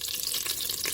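Pieces of rabbit browning in a Cookeo multicooker give a steady, close hiss of frying, continuous and bright throughout the short stretch, with no voices.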